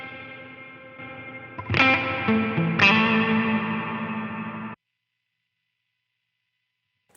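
Electric guitar through a '63 spring reverb model on a Line 6 Helix: a sustained chord followed by two sharp strummed hits that ring out with a springy, splashy tail before cutting to silence.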